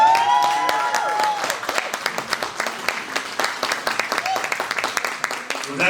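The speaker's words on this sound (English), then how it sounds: "Come on, give him a big round of applause, guys." An audience at a community event breaks into applause, many hands clapping in a dense, lively patter that thins toward the end, with cheers and a voice calling out over it.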